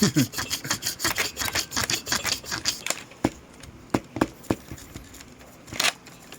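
Soil is brushed during a mock archaeological dig, giving rapid close bristly scratching strokes in quick bursts that thin out into a few separate scrapes and taps, with no one speaking.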